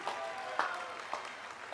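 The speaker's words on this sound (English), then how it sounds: "Let's give them a round of applause." Audience applause at a College of Environmental Design commencement ceremony, a steady wash of clapping from a large crowd at moderate loudness, with a few sharper claps standing out.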